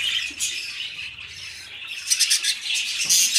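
An English budgerigar pair chirps and squawks in a continuous, fairly close bright chatter, with louder bursts of calls toward the end.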